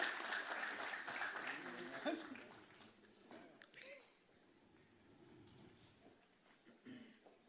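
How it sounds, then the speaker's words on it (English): Audience applause fills a forum hall at the University of Nairobi, with clapping and cheers strongest at the start and fading into murmur and scattered voices. "Makofi mazuri."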